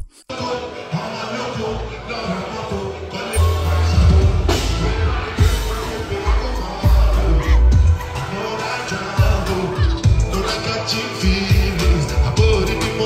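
A dense, loud concert crowd in London sings along to a song, mass voices blending with heavy thumping bass and cheers throughout.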